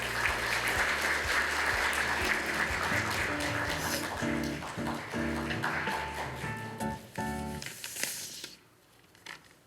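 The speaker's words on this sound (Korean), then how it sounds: "큰 박수와 함께 모시겠습니다." An audience at the opening ceremony of the Korean Association of International Studies 2024 summer conference claps to welcome the Gangwon vice governor, a sustained crowd applause over tonal background sound that thins and fades out near the end.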